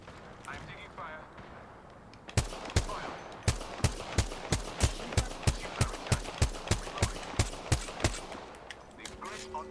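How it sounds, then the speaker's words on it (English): Rapid game gunfire in an Apex Legends ranked match, a steady burst of roughly twenty sharp, evenly spaced shots lasting about six seconds, loud and close after a quieter stretch, with a voice talking over it. "I'm taking fire."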